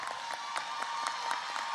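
Audience applause at a middle school graduation ceremony, a steady wash of clapping from a crowd with no voices over it, moderately distant and even in level.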